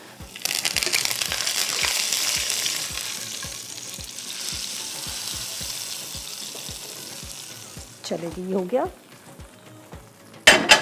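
Onion and cumin tempering for dal sizzles loudly in hot oil with a bright, crackling hiss that slowly settles. Someone speaks briefly near the end.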